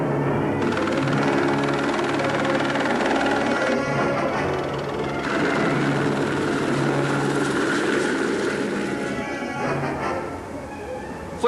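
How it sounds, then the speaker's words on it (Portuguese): A steady helicopter drone with chopping rotor texture, fairly loud and continuous throughout, with faint voices mixed underneath. "Foi apenas um helicóptero"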